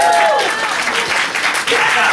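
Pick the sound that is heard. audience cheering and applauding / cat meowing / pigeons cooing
audience cheering and applauding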